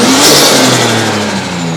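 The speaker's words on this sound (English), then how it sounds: "I have given it a rev already." A Nissan S13's engine is revved hard close up, rising to a loud, strained roar and then easing off, with no talk over it.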